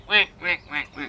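A human voice imitates a duck, giving four quick nasal quacks in a row, close and clear.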